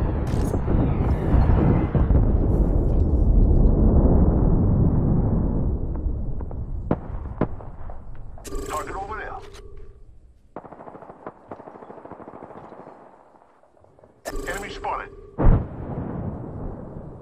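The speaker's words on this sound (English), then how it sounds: "Signaling an airstrike." Video game airstrike: a long, loud rumbling roar of explosions fills the first several seconds, then fades into scattered sharp blasts and bursts of gunfire-like crackle, with a voice likely in the mix.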